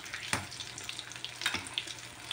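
Paneer bajji fry in hot oil with a soft, steady sizzle and a scatter of small crackles, plus two sharper pops, at close range and fairly quiet.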